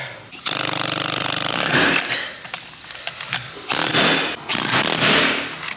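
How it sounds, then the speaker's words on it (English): Loud, rapid pneumatic air hammer knocking a metal sleeve out of a Nissan G35 differential mount, harsh bursts stopping and starting several times, with brief metallic clatter in the gaps. "jackhammering or air hammering the inside of that sleeve out so I can get it out"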